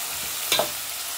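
Beetroot, carrot, potato, cauliflower and green peas hit hot oil in a pan for Mumbai-style pav bhaji, giving a short, close stirring scrape with a brief sizzle over a soft background hiss.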